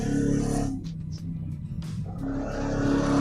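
Car engines and tires in a NASCAR racing video game, with a sustained engine drone that dips midway before rising again, brief squeals and skid noises as the right front tire locks up under braking.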